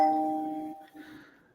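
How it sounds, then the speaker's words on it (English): A single doorbell chime rings out clearly and fades over about a second, with a quieter second tone and faint room noise after it. "Doorbell."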